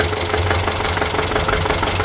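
A Zetor 25N tractor, around 1945 vintage, idles close by with a steady, rapid knocking engine beat and low rumbling vibration throughout, no talking over it.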